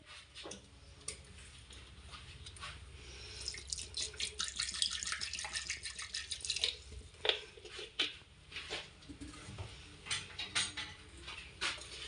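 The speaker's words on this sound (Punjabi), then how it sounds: "ਥੋੜਾ ਪਾਣੀ ਆਪਾਂ ਵਿੱਚ ਹੋਰ ਐਡ ਕਰ ਲੈਣੇ ਨੇ ਇਹਦੇ ਕੱਪ ਦੇ" Water is poured from a tap or jug into a cup while a homemade summer drink with jaggery and mint is being prepared: a steady trickle and splash with light drips and small clinks, close by, with no talking.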